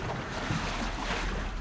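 A fishing boat being pushed into the sea at Chaliyum Beach, Kozhikode: a steady, loud roar of surf and wind buffeting the microphone, with no distinct voices standing out.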